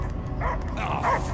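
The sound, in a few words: dog barking in Guardians of the Galaxy video game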